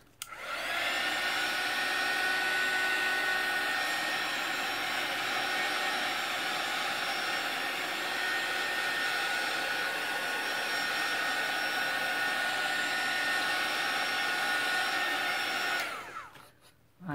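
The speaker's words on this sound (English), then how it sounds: "I want to give it a little blast from my heat tool" A craft heat tool blows hot air over freshly stamped paper, a steady, loud whooshing roar that holds constant for about sixteen seconds before cutting off abruptly.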